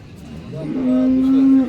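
A cow at the Baramati cattle market in Pune district gives one long, steady moo, loud and close, with faint market background beneath.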